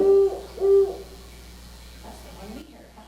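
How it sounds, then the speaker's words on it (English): Great horned owl calling, two deep, resonant hoots in slow succession, clear and fairly loud, followed by a quieter stretch with faint low murmuring in the background. "play our great horned owl call so that way you all know what to listen for"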